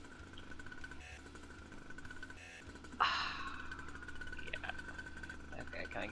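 A motorcycle in the Second Life video game, the SAU Grasshopper, drones steadily with a buzzy engine whine, then jumps abruptly louder midway and keeps running at that level.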